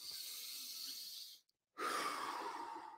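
A crowd breathing in deeply together in unison, a long broadband rush of breath, a brief silent pause, then another loud collective exhale or inhale, close and filling the room with no talk over it.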